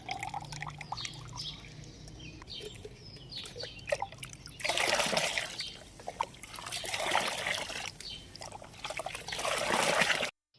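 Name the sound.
liquid fertilizer poured onto soil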